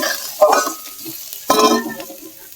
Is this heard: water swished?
no